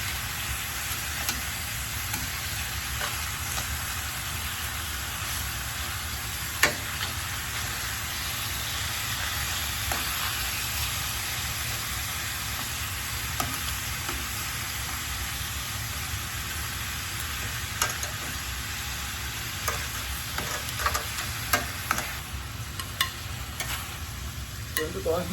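Salt-seasoned oxtail sears in a skillet, giving a steady, even sizzle and hiss throughout, with a few faint clicks and taps of handling near the end.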